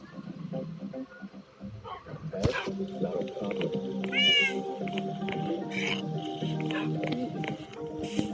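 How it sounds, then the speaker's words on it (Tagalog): A cat meows loudly and repeatedly up close, with drawn-out, wavering caterwauling cries over a tonal background of music, and a voice speaks in places. "this is my cat."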